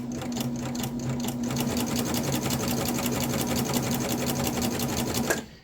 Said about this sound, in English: You just feed it in. It really looks after itself. So I'm just feeding it in.